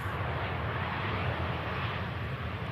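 Aer Lingus airliner departing Manchester Airport for New York, a steady broadband jet roar heard from a distance with no clear change in level.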